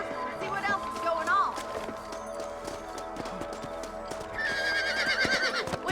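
Horses ridden in Red Dead Redemption, with rhythmic hoof clip-clops, a couple of neighs and whinnies, and game character voices talking over the riding.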